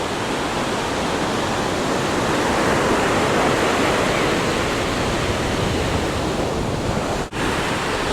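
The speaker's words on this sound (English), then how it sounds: "The wind at my back, feel the wind here" A strong outdoor wind roars into the microphone as a continuous, loud broadband rush at a boomerang-throwing spot, cutting out briefly near the end.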